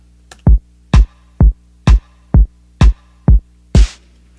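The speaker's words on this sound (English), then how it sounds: "So just a couple layers of different clap sounds, as well as like a snare at the end" Layered claps with a snare at the end, playing in an electronic drum loop over a steady four-on-the-floor kick, with seven sharp, evenly spaced hits. The last hit is the snare, which has a noisier tail.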